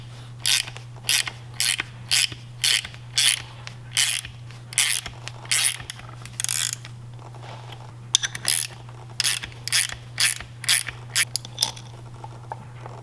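A ratchet wrench clicks in steady repeated bursts while tightening a nut on a puller to draw the crankshaft out of a disassembled Seadoo 787 engine, with a constant low hum underneath.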